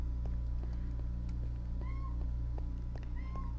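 A pet cat at a window gives a few soft, short meows over a steady low hum and faint ticking, with small chirping calls near the end.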